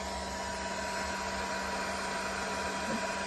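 A heat gun runs steadily throughout, warming epoxy on a powder-coated tumbler to soften it; the close, even blowing roar holds at constant loudness with no talk.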